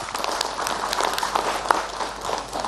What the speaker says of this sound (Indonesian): Tepuk tangan buat Ustazah Syifa.